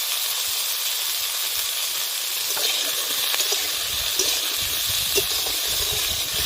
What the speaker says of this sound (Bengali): শুধু তেলে ভেজে নেব